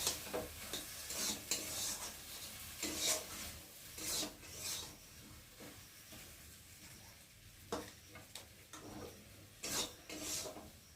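Cooked peas being stirred and scraped in a pan, repeated rasping strokes in an uneven rhythm over a faint sizzle, close up with no talking.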